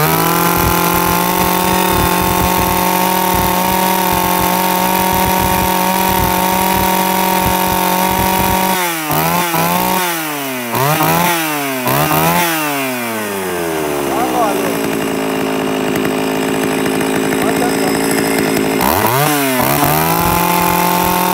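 A used Japanese X3 chainsaw runs at a steady idle, then revs up and down in several sharp bursts before settling and revving again. It is loud and close, with someone talking over it.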